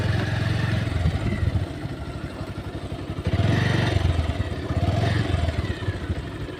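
A motorcycle engine rumbles close by, running steadily and rising in loudness a couple of times as if revved, with rattling clatter mixed in.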